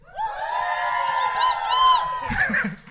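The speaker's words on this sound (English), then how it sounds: "If you took a shower today, make some noise." A live show crowd cheers, whoops and shouts together in a sustained burst of noise that swells and stays loud for a couple of seconds, with higher shrieks near the end.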